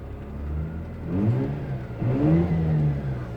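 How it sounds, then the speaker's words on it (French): A Mazda RX-8 engine revs up as the car accelerates, heard from inside the cabin with two rising sweeps of engine pitch over a steady low drone, loud and with no talking. "Donc je vais accélérer un peu."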